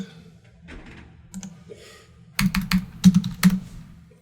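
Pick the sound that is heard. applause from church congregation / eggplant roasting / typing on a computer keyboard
typing on a computer keyboard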